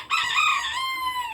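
A bantam rooster crows once nearby, a loud, drawn-out call that trails off over about a second, heard alone without talk.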